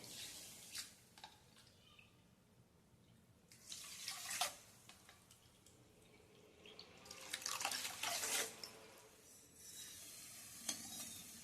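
Water poured into a kadhai holding sugar on a gas stove to make syrup for mango gulab jamun, heard as sizzling, splashing bursts against a faint background, loudest near the middle and end, with no talk.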